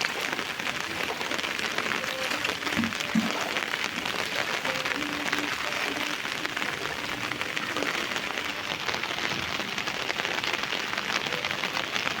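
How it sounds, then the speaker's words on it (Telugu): Steady, dense hiss of heavy rain pouring down, continuous throughout with a few brief thumps and faint background sounds. "కుంభవృష్టి వర్షం"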